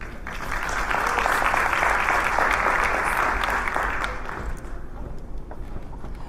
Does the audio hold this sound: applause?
yes